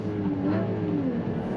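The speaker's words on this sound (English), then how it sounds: "So I do a rev match and everything, except it's not really a rev match when you keep it in the same gear" A race car engine held in the same gear blips briefly for a rev match, a steady close-up drone that swells slightly and then settles.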